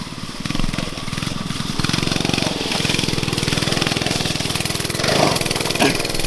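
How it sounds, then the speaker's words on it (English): A Monster Moto 105cc minibike engine runs loud and steady, close by, with its pitch surging briefly near the end as it is revved for a driveway jump. "try to jump the driveway on the Monster Moto 105"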